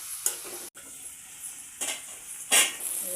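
Prawns and onions sizzle in hot oil in a pan, with a faint, steady frying hiss throughout. A few sharp scraping stirs and clinks of a spoon against the pan stand out above it.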